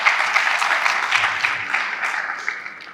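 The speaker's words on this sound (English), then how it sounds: "Please a round of applause." An audience at a university lecture event on open and distance learning applauds with a continuous, even round of clapping from many hands, fairly loud at first and gradually tapering over three seconds.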